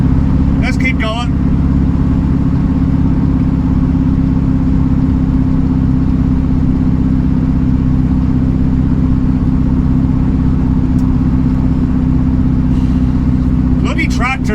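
A 1967 VW Beetle engine drones steadily while driving at about 30 mph, a loud, constant low hum from inside the car with a brief voice at the start and end.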